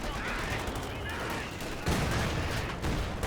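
Mortar fire in a Company of Heroes 2 match: dull booms and scattered gunfire rolling under continuous battle noise, with a louder thump partway through amid a dense, busy soundscape.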